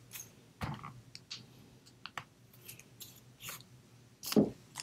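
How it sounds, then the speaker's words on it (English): Scissors snip through paper scraps in a crafting session: a string of short, sharp clicks and cuts at uneven intervals, close and fairly quiet against a hushed room. "So you're going to be seeing me cut things down. And got my scissors here."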